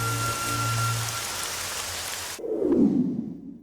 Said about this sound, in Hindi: तुम्हें कैसे पता था कि बारिश होगी?